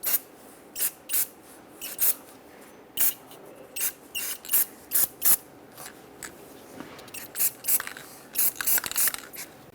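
Short bursts of aerosol anti-seize spray hiss in quick, irregular succession on Ford E-350 Super Duty rear brakes, a dozen or more brief sprays close by, separated by quiet gaps.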